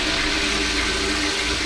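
A toilet flushing in the game Bathroom, a loud, close, steady rush of swirling water filling the whole short moment with no talk.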